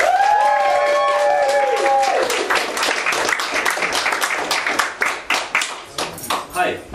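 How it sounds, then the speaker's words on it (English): At a London spoken-word night, an audience claps and cheers for a poet: a sustained wash of hands with whoops, fading into scattered, uneven claps near the end, while voices murmur over it. "Please give a huge round of applause for Raj."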